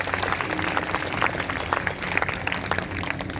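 A church congregation at a Hindi-language Sunday service claps together in steady, dense applause that fills the whole stretch without pause.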